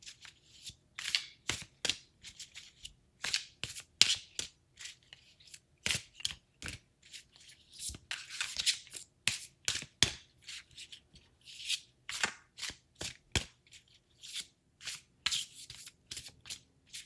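Tarot cards being shuffled by hand in quick crisp bursts of riffling and slapping, close and fairly quiet, with short pauses between rounds and no talking.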